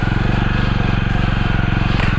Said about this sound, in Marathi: मी आता बाईक घेऊन खाली उतरेन